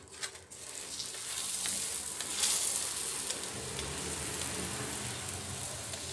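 A mixed vegetable paratha fries in ghee on a hot pan and is flipped, giving a bright, dense, continuous sizzle that swells after the turn and stays loud and close with no talk.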